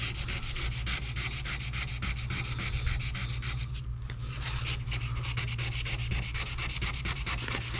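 Close, rhythmic back-and-forth rubbing of a sanding block wet sanding a car's paint with 1500 grit, a fast, even scrubbing texture that continues steadily with a brief lighter moment midway.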